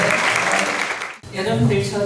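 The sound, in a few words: welcoming applause for the speaker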